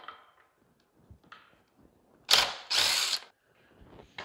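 A socket wrench works on a small engine's flywheel in short ratcheting bursts: scattered faint clicks, then two loud, close rasping runs of about half a second each, with no talking.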